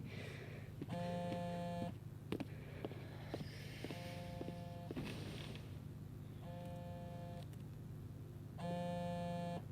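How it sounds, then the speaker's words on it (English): A phone rings in the video game Life Is Strange Double Exposure: three bursts of an electronic ringtone with a steady hum beneath them, clear and close, and no one speaks. "Answer the phone, man."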